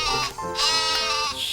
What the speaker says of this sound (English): Get back with the other sheep.